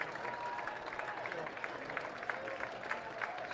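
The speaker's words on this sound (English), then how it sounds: "The crowd coming to life in Bowie." Baseball crowd in Bowie, at a minor-league game against Hartford, murmuring and cheering at a steady moderate level, with scattered claps and voices rising through the stands.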